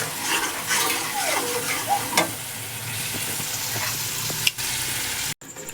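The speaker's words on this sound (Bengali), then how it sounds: "এই যে আমি চিকেনটা কড়াইতে দিয়ে দিয়েছি" Chicken frying and being stirred in a hot kadai wok, with a steady sizzle broken by scraping and clatter of the spatula, loud and close, no talking.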